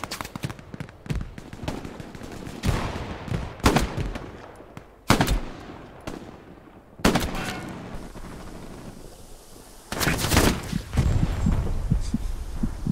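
Gunfire in the World War II shooter game Hell Let Loose, played on console: loud, close rifle shots come in separate bursts a second or two apart, with heavier sustained fire near the end.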